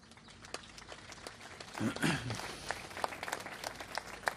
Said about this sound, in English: Let us do this by an applause.